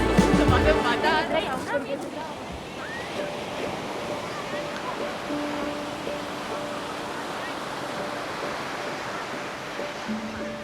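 Ocean waves wash at Praia do Camilo beach in Lagos, a steady broad rushing surf heard at a distance, with people chatting nearby and a louder burst at the start.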